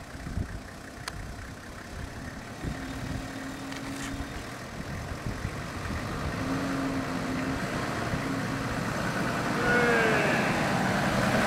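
A 4x4 engine pulls in low-range first or second gear with a faint, steady low rumble that grows slightly louder toward the end, heard alone from inside or near the vehicle.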